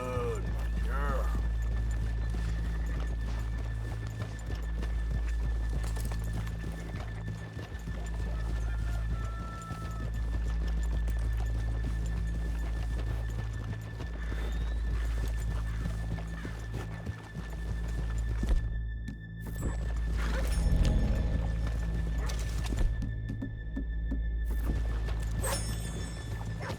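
Horse hooves clip-clopping in the Red Dead Redemption 2 video game, a steady walking rhythm continuing for nearly half a minute under game music and intermittent character dialogue, with a whinny heard along the way.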